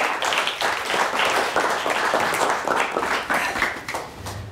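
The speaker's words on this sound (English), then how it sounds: "Another nice round of applause for both of these teams." A live crowd at a quiz competition claps steadily for two teams, a dense, even wash of many hands that holds close and loud throughout with no talk over it.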